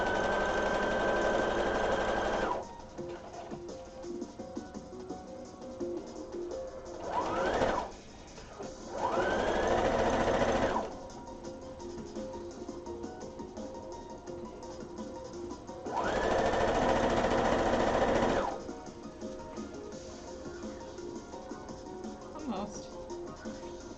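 Home sewing machine stitching a garment waistband in short bursts, several loud runs a few seconds long separated by pauses, close to the mic, with a woman chatting in between.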